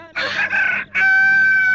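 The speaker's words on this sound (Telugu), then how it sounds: "అప్పుడే కోడి కూసిందా?" A rooster crows once, loud and close, its call rising into a sustained, ringing final note that lasts nearly a second.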